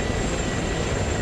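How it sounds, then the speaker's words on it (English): Helicopters spooling up in the video game Arma, in Zeus mode, a loud steady engine and rotor roar that fills the whole moment without any pause. "I was hearing all the choppers spooling up"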